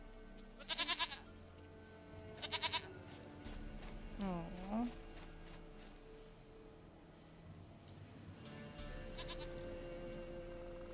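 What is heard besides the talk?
goat bleating in The Witcher 3 video game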